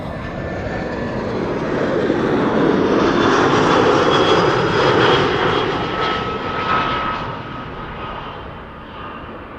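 An easyJet Airbus A320 airliner arrives, its loud jet engine roar swelling as it passes close by, then slowly fading away, with no voices heard.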